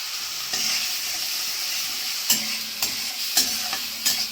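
Spice masala of turmeric, cumin powder and salt being stirred and fried in a pan, a steady close sizzle broken by several sharp scraping strokes of the spoon.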